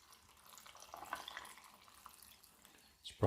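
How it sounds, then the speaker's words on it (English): Water pours into a blender jar over chopped mango, mint and ginger for a tropical juice, a faint, steady trickle and drip running close by for about three seconds before a louder clatter at the end. "So I'm going to add some water in."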